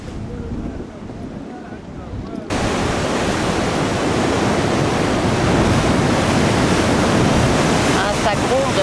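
Ocean waves rumble steadily onto the shore at San Sebastian, a broad roaring surf that swells louder after a couple of seconds and continues as a constant close wash, with wind buffeting the microphone.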